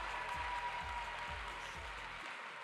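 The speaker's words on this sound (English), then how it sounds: "Let's give a big round of applause for that." A brief burst of audience applause at a charity event program, a steady wash of clapping that cuts off abruptly, with faint low thumps underneath.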